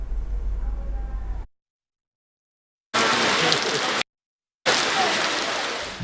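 Steady rain pours at an outdoor ceremonial grounds, a dense continuous hiss broken into separate segments with silent gaps between them.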